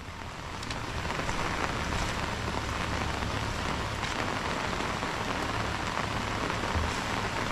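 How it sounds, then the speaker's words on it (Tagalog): Steady heavy rain falls during a typhoon, a dense even hiss of drops on surfaces that continues unbroken and fairly close throughout. "ganito pag tag-ulan"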